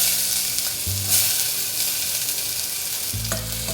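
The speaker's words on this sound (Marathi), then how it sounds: "तेल तापल्यावर आपण त्याच्यामध्ये फोडणीला थोडा बारीक चिरलेला कांदा घालणार आहोत" Finely chopped onion frying in hot oil in a pot for a Malvani-style tempering, a loud continuous sizzle with scraping stir strokes, close up and without talking.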